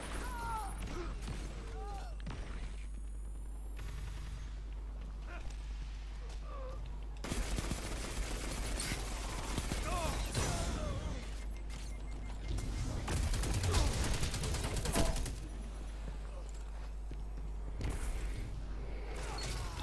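Dense Destiny 2 video game gunfire in a clan match, rapid shots and bursts layered with constant game effects and a steady low rumble throughout.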